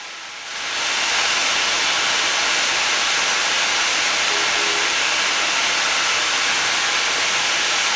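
Steady, loud hissing of steam escaping from a locomotive's cylinders in a train simulator game, rising quickly at the start and then holding as an even rushing wash with no talk.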